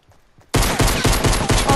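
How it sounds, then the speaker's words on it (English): Gunfire in the Fortnite video game: after a quiet moment, a loud, rapid burst of shots fires in quick succession, close and dense, with no talking. "Oh, what a good shot."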